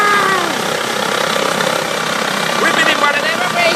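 Helicopter taking off in a park, a steady engine and rotor drone heard from nearby at a constant level throughout, with a voice and other talk over it.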